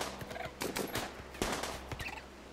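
Gunfire during a tortoise attack in RimWorld, a string of sharp, separate shots spread across a couple of seconds at moderate loudness, with a few heavier cracks standing out.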